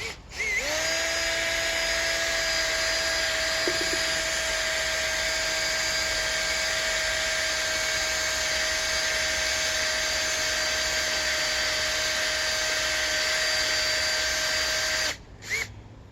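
A drill spins a hone inside a blown-up ported cylinder, a steady high whine held for about fifteen seconds before it stops abruptly.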